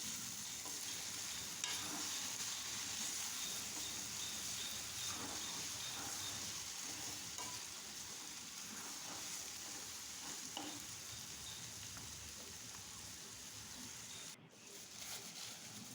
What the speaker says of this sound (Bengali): আরও কিছুক্ষণ রান্না করার পর আবার নেড়ে চেড়ে